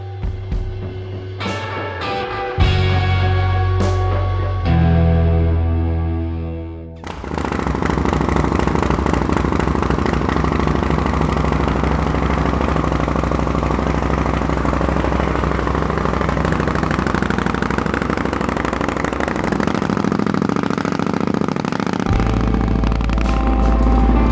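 A water-cooled Indian Scout V-twin engine on a custom chopper idles steadily and loudly up close, with a lumpy low rumble after a few short starting revs.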